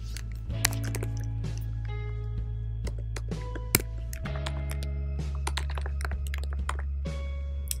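Code is typed by hand on a computer keyboard for a React project, the close clatter of keystrokes coming in quick uneven bursts with short pauses, over a low steady hum.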